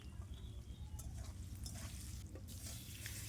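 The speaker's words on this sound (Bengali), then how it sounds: "এই যে আলুগুলো ভেজে নিচ্ছি" Potatoes fry with turmeric and salt in a pan, giving a faint, steady sizzle with a low rumble and a few soft stirring scrapes, heard close with no talking.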